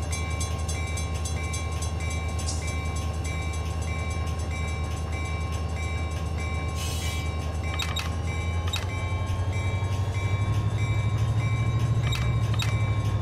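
Freight train rolling in the Run 8 Train Simulator game, a continuous loud rumble and wheel noise with a steady tone, brief horn-like bursts and clicks, and a rising engine roar near the end, no talk.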